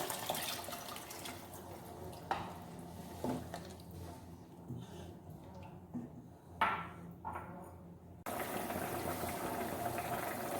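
Mutton stock pours and splashes into a pot in several uneven gushes, close by, over a low steady hum, then settles into a bubbling rush.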